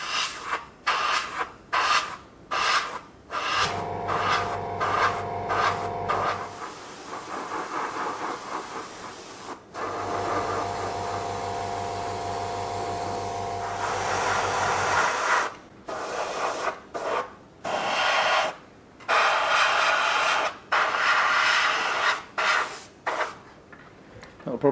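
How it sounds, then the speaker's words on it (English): An airbrush hisses while spraying dark brown paint onto a model diorama building, alternating short on-off bursts with two longer continuous sprays, close and steady, with a compressor hum beneath. "So with this brown loaded in the airbrush, I'm going to start by doing a vertical pattern up from these windows."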